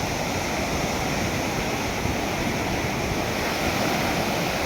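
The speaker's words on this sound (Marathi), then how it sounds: "बघा समुद्र कसा खवळला आहे" Loud, continuous roar of rough sea surf at Tamboldeg beach with churning, broadband wash and steady wind noise, no pauses, close by.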